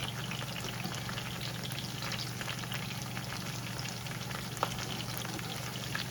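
Okra fries in grease in a pan, giving a continuous soft sizzle and crackle with a low steady hum underneath, fairly faint and with no voices.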